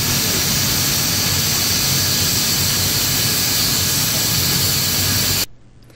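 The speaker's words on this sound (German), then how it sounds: "Hier glättet Petra Leutloff eine Bluse." A steam iron hisses steadily and loudly while a blouse is smoothed in a workshop laundry in Cottbus, then cuts off abruptly near the end, leaving a low hum.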